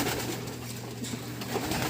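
Racing pigeons coo softly in a loft, a few low throaty calls rising over a quiet background hum, close by and unaccompanied by talk.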